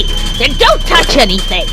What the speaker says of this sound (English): That's the kettle.